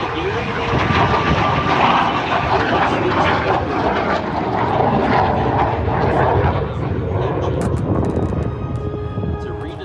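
A MiG-17 jet fighter with a redesigned Rolls-Royce engine roars loudly overhead at the Dayton airshow, a sustained heavy jet rumble that eases slightly toward the end, with people talking beneath it.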